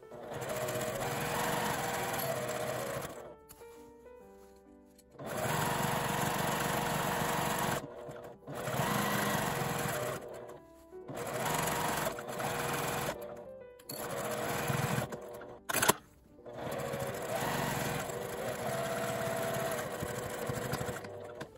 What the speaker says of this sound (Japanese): ポケットを縫い付けます